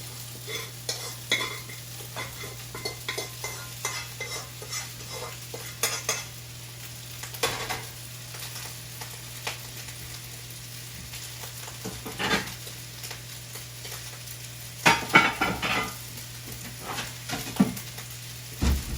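Eggs and chicken fried rice with soy sauce stir-fried in a pan: a steady low sizzle runs throughout, broken by scraping and stirring strokes and a few louder clatters of utensil against the pan, with no talking.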